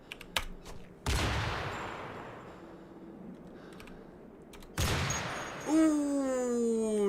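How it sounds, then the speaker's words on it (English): An M2 Browning heavy machine gun fires in Cataclysm: Dark Days Ahead, with two loud sharp blasts of gunfire that decay into a long ringing tail, plus a few clicks and a rising whistling tone near the end. "Fire the M2 Browning!"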